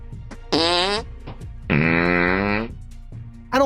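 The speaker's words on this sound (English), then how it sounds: "here's a HK G11 farting" An HK G11 caseless rifle venting gas through its pressure relief diaphragm makes two loud, buzzing, fart-like blasts, the first short and the second longer, each stopping abruptly, with quiet gaps between.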